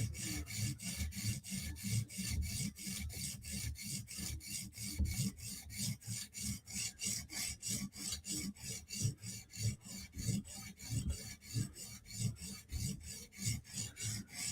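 Rapid, rhythmic rasping of a Chris Reeve Umnumzaan knife blade scraped back and forth across a coarse 150-grit stone, steady strokes repeating without pause, close and alone.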